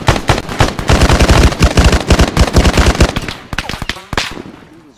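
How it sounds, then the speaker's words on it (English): Rapid gunfire rattles through ARMA 3 combat, with dense bursts of close shots and sharp single cracks that thin out and trail off at the end. "We're taking fire, we're taking fire."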